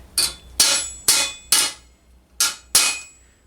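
A hammer strikes a steel bascinet visor hinge held against the corner of an anvil, six loud ringing blows in an uneven rhythm, each decaying briefly, with no talking.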